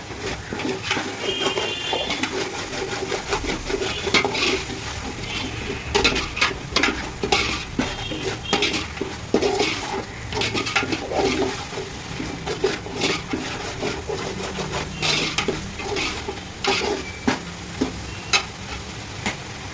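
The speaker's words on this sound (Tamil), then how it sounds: "பூண்டு வந்து நல்லா பச்சை வாடை போயிடணும். போகிற அளவுக்கு வதக்கிக்கணும்." Garlic sautés in a pan for a country chicken kurma, a steady close sizzle broken by frequent metallic stirring clinks and scrapes throughout, with no voice present.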